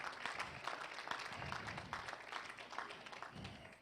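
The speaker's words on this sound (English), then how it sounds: "Let us give him a hand clap of praise tonight." A church congregation at New Pleasant Grove Baptist Church in Macon, Georgia gives a hand clap of praise, a sustained crowd applause of many hands clapping, with a few voices mixed in, fairly distant and fading slightly.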